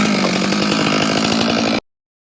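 A loud chainsaw roars at full throttle close by, revving steadily as it cuts through a hickory tree, then cuts off abruptly.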